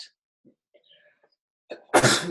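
A single sharp sneeze bursts out near the end, loud and close, after a few faint scattered sounds.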